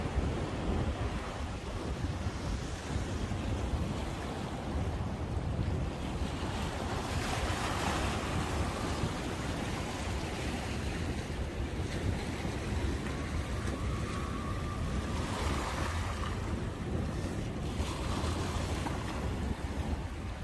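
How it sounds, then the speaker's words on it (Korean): Ocean waves surge and wash in a continuous roar at a Korean harbor, with gusts of wind buffeting the microphone and high swells rising and falling throughout. "자, 파도가 좀 높습니다"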